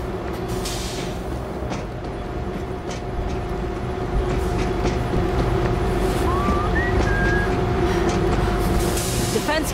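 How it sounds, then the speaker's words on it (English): A video game train starts up and runs, giving a steady, loud mechanical rumble throughout with rising whistle-like tones partway through and brief bursts of noise near the end. "Somebody start up the train."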